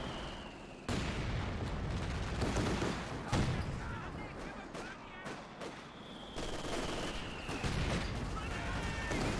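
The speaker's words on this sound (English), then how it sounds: "He's got the mortar now firing" Repeated mortar and gunfire blasts in a World War II strategy game battle, a Wehrmacht mortar among them, landing as loud, sharp bursts with rumbling tails and scattered smaller shots between them.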